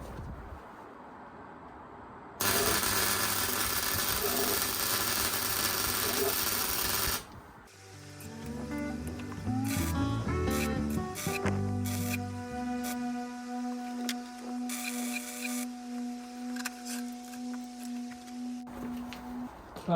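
Welding on the rear axle of a 50-year-old MGB, with a loud steady crackling buzz lasting about five seconds. Scattered clanks, clicks and a sustained mechanical hum follow in a quieter workshop.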